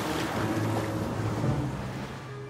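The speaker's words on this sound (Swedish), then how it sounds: "snart sköljde vågorna in över klippan" Waves washing in over a coastal cliff as the tide rises, a continuous surging roar of water with wind noise, steady and fairly close throughout.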